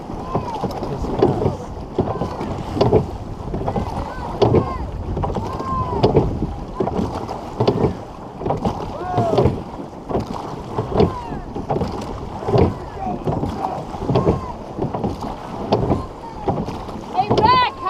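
A crew rowing a boat in a race, with rhythmic splashing paddle strokes repeating about every second alongside wind buffeting the microphone and brief voices.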